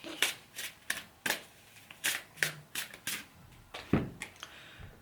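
Tarot cards are shuffled and drawn by hand, a series of crisp riffling flicks and snaps in irregular bursts, close and quiet, with no talk.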